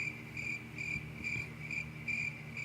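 Crickets chirp in a steady, close chorus of high, bright trills pulsing in regular bursts roughly twice a second, with no voices over them.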